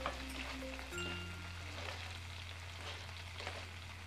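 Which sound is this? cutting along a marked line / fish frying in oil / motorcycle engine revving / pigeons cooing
fish frying in oil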